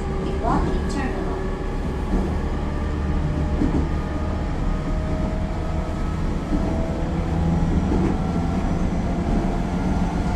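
A train nearing its final stop at Iwaki rumbles and rattles steadily from inside the carriage, with a voice speaking over the running noise.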